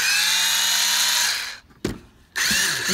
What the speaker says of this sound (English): This Makita right here, it's actually got more torque than those Harbor Freight China made ones.